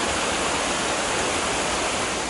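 Creek water rushing steadily past a hiking trail in the Smoky Mountains, a loud, dense, continuous wash of flowing water close by, with no talking.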